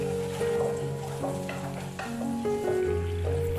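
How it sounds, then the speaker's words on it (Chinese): Sauce bubbling and sizzling in a pan after garlic is fried golden, being brought to a boil for honey pork chops, a steady soft hiss and crackle with faint clinks, close and alone without speech. "香味出来后，就可加入已准备好的酱汁， 再将酱汁煮开"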